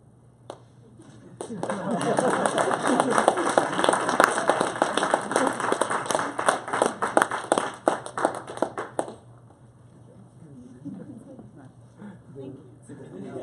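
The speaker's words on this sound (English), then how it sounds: "let's give another round of applause to SuperSoleVRs" An audience applauds after a student final project demo at a coding bootcamp, a sustained burst of many hands clapping for about eight seconds before fading out, with a voice speaking faintly afterward.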